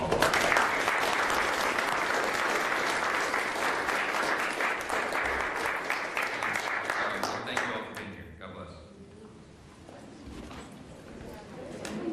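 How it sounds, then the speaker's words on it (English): Sustained, loud applause from the audience at a House GOP leaders' press conference after a House vote, fading down late in the clip, with voices talking beneath it. "So a round of applause for all these folks."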